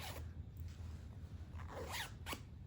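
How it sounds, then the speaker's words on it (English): A side zipper on a piece of Gap clothing is drawn along in a few quick, raspy zips, close up, with a short catch where it snags on extra fabric. "so this is a side zipper"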